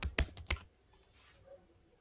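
Computer keyboard keys clatter in a quick burst of several close, crisp clicks as a name is typed, then the room falls nearly silent.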